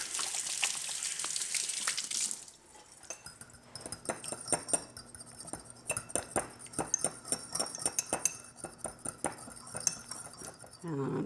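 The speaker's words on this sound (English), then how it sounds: "Okay, wash my hands." A kitchen tap running as hands are washed, a steady rush of water at first, then a softer trickle with clinks of dishes and utensils, close by and fairly loud.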